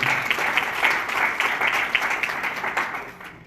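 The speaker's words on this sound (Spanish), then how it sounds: "Fuerte el aplauso, por favor, para él." A seated audience at a medical book presentation claps steadily throughout, producing a moderately loud, dense applause that tapers off slightly toward the end.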